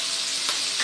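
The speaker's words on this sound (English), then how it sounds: "After that, we're gonna put in our sliced mushroom." Sliced mushrooms hit a hot frying pan and set off a steady, close sizzle. The sizzle swells briefly at two points, with no talking.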